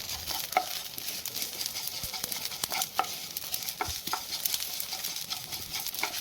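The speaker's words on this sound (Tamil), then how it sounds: "சவ்வரிசியை பொரிக்க போகிறோம்." Close, crackling sizzle of sago frying in hot ghee, with soft scraping and stirring sounds and scattered pops throughout.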